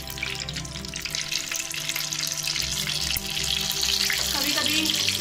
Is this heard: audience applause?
no